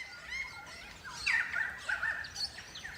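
Crimson rosellas calling during breeding season in Australia: a series of bright, whistled and chattering notes, moderately close and clear against a quiet background, with no talking.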